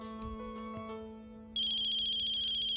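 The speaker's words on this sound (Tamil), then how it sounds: "சாரி, ஃபோன் வருது." A phone ringtone signals an incoming call, starting as a faint tonal melody and then switching to a louder, steady electronic ring that continues with no voices.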